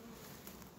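Honeybees buzzing steadily at an opened hive with a full honey super, a dense continuous hum heard briefly and close.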